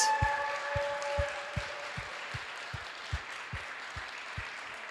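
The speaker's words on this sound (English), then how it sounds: "Let's give them a round of applause." Rhythmic, evenly spaced claps or beats from an audience welcoming a dance group at an Alaska Pacific University event, sounding at a steady tempo over a faint wash of background noise.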